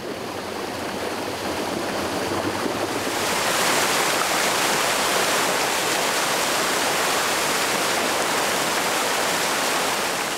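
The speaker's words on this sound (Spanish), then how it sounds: "Al levantar la tajadera, el agua es desviada de su cauce y conducida por un canal" Water diverted from its course through the channel of a traditional fulling mill: a quiet low murmur that surges after a few seconds into a loud, steady rushing roar, continuous and close, with no voices.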